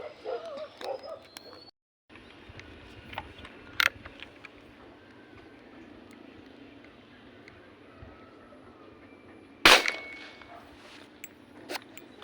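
Two sharp, loud shots ring out while catching a fish, one short crack followed several seconds later by a stronger one, over a quiet outdoor background.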